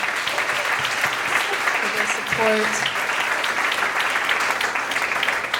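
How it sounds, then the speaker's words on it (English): Sustained applause from a large audience at a climate game launch event, steady and full throughout, with a speaker's voice briefly heard over the clapping. "A round of applause, please, for all of them"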